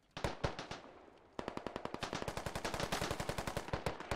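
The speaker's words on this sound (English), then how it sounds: "Oh, Rob gets mowed down by King" Machine gun fire in a competitive video game match: several spaced bursts, a brief lull, then a long run of rapid, evenly paced shots, loud and close with no talk over it.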